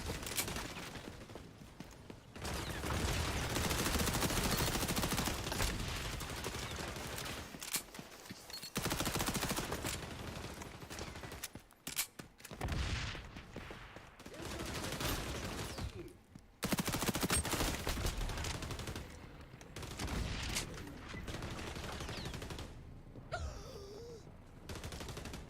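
Heavy gunfire in the video game XDefiant, long stretches of dense automatic shooting broken by brief gaps and isolated bursts, fairly quiet overall, with no talking.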